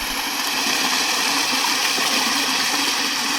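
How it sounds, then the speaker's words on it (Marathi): Water pouring down from one spot after a summer rain shower, a steady hissing rush close by with no pauses and no talking. "पाणी पडत आहे तिथून आहे ना."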